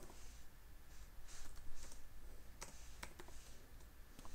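Light, quick clicking of keys on a computer keyboard: scattered taps close by, with a few sharper strokes, over a faint steady room hum.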